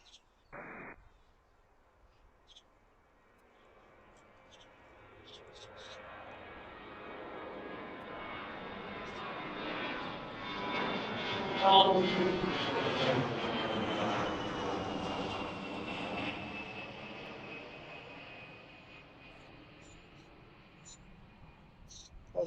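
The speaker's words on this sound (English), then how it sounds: "So this one's taking off on runway 1." An airliner taking off from runway 1 at Washington Reagan National Airport, its engine roar swelling slowly from a distant hum to a broad, loud peak midway, then fading gradually over about twenty seconds.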